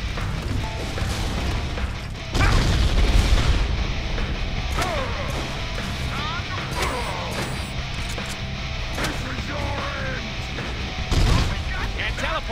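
Pump shotgun blasts in the Deadpool video game, heavy booming shots at irregular intervals amid chaotic combat effects, crashes and game noise, with someone talking over the action.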